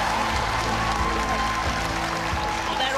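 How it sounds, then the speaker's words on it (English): A studio audience claps steadily for a young woman who has just completed a charity rickshaw challenge, a dense, even wash of applause filling the room with no break. "they're all clapping for you"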